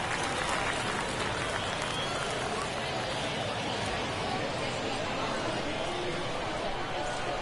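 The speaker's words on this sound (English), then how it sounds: "Crowd locked in right now." Crowd noise at a Dominican winter-league baseball game late in a close ninth inning, a dense continuous roar of cheering and applause filling the whole stretch without letup.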